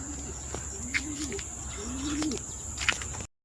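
Racing pigeons coo softly in a loft after arriving home from a 103 km training release from Atimonan, Quezon to Silang, Cavite, with a few low repeated coos and faint chirps over steady background hum.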